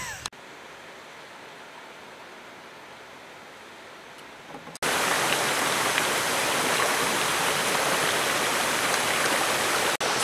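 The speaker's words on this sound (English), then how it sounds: "There's a nice waterfall behind me." Waterfall in the wilderness on a canoe trip, a steady broadband rush of falling water, fainter at first and then suddenly much louder and closer for the rest, with no talk.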